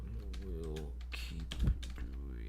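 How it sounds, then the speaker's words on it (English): Rapid keyboard typing clicks along steadily for a couple of seconds, close and moderately loud, with a low voice-like hum running underneath. "just typing this out."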